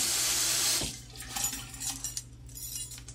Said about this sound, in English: Maryland gave us this faucet thingy to help the water spray out less